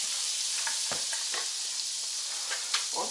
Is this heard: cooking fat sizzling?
yes